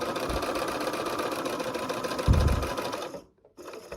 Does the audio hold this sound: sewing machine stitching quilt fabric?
yes